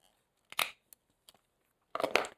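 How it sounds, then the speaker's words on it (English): Leather being punched for a no-sew tray: a crunching hit near 0.6 s, two small ticks, then a longer louder crunch near 2.1 s, all close and with no talking. "Once I make the mark, I'm going to punch a hole."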